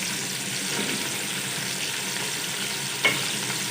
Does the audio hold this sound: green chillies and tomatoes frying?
yes